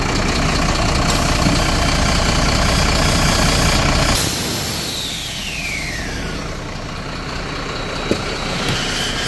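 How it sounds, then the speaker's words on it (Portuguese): A Volvo Euro 5 truck, the last built in Brazil, rumbles loudly at idle and then pulls away from a suspension workshop, its heavy engine note fading and shifting as it drives off, with a brief hiss near the end. "O caminhão agora está saindo daqui, está indo lá pro moleiro para poder baixar"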